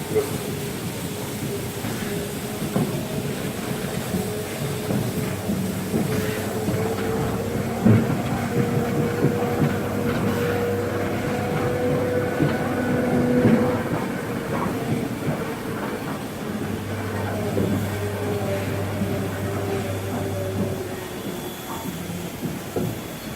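A steam train shunts at a station during a railway festival in Ampflwang, with continuous rolling rumble, rail clatter and occasional hisses and squeals, moderately near, with faint voices now and then.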